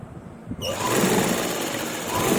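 A sewing machine stitches lace onto a dupatta, starting abruptly after a short quiet moment and then running as a loud, steady, rapid mechanical whir up close.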